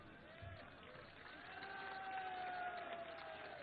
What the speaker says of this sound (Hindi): लेकिन आपके लिए जनता ताली बजा रही है,